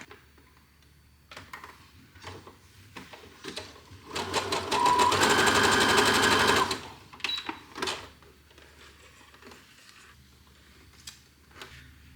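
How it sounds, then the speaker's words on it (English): A home sewing machine stitches a zigzag in a couple of short bursts and then one longer steady run, its fast mechanical whirring rattle close and clear, with light handling clicks in between. "I'm first just gonna show you what the normal length and width for the zigzag stitch looks like."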